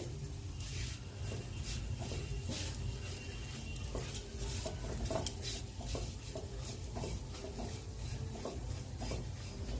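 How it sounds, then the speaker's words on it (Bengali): Lachha semai frying in ghee is stirred in a pan, producing continuous close scraping and rubbing with light utensil clinks over a steady sizzle, no voices present. "একটু নাড়িয়ে দেবো যাতে ঘিটা সমস্ত লাচ্ছাতেই লাগে"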